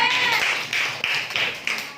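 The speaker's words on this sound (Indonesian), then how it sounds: "Beri tepuk tangan untuk kelompok B" A sixth-grade class claps for group B during a maths lesson on circles, a few scattered claps mixed with children's voices in a busy classroom.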